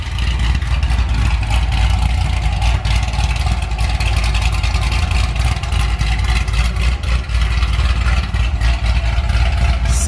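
A Corvette fitted with new mufflers runs loud and steady, its engine holding a deep, throaty rumble for about ten seconds with no talking over it.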